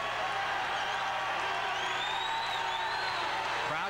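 An arena football crowd at an indoor 1991 game in Dallas cheers and whoops steadily at a distance, a continuous roar with scattered shouts.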